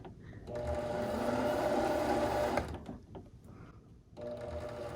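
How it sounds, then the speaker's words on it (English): A sewing machine motor whirs steadily for about two seconds close by, then stops with a thunk, followed by quieter mechanical shuffling and a second short motor hum. "when you push down, you will start to hear the motor of the machine going"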